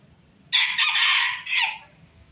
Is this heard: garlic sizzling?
no